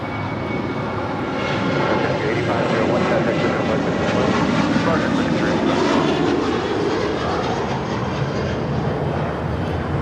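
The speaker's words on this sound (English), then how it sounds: "8501 departing to Kailua, Kona on a 737-800" Sun Country Airlines Boeing 737-800 jet departing LAX, a loud steady engine roar that swells in the middle and holds through the whole stretch, heard from nearby.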